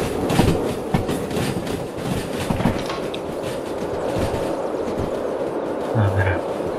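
A train locomotive running in the video game Derail Valley, a steady loud rumble with clickety-clack wheel rhythm and occasional squeals, continuous and close throughout.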